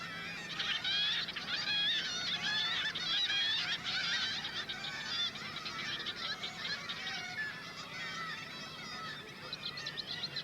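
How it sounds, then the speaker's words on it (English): A dense chorus of harsh, overlapping kittiwake calls from a cliff-nesting colony of many birds at once, loud and continuous, thinning slightly toward the end. "It's the kittiwake, which you won't find in London or Oxford."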